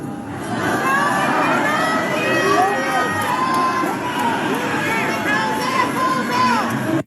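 A concert crowd heckling after the show is cut short: a loud, sustained mass of shouting, jeering and cheering voices with no pauses, close and continuous throughout.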